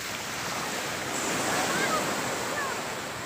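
Steady wash of surf breaking on a shore, broad and continuous, with wind rushing across the microphone.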